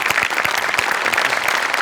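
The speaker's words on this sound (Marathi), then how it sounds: "सचिन मोठ्यांसाठी भयंकर टाळ्या." Applause from an audience at a Marathi comedy show, steady, dense clapping filling the whole moment, loud and continuous with no voices over it.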